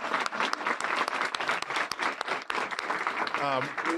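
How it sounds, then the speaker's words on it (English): An audience claps at a public event celebrating an early childhood program, a busy patter of hands mixed with talk and crowd noise. "So I just want to give them a big round of applause."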